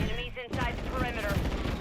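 Continuous gunfire in the Call of Duty MWIII multiplayer video game, set in a Tokyo map, runs as a loud, dense crackle for the whole brief moment, with a radio-style voice underneath.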